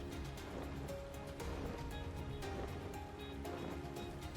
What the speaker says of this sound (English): I just wish it wasn't raining